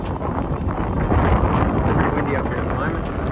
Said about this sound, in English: It's windy up here at the moment.